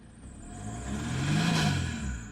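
An old diesel car bought for 1000 euros revs its engine, the pitch climbing to a loud peak and falling back, heard alone without talk.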